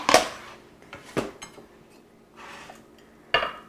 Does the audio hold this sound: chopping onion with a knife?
yes